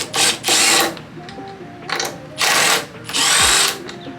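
A power tool loosens suspension bolts during a coilover install, whirring in four loud bursts of roughly half a second each, separated by short pauses with faint shop noise underneath.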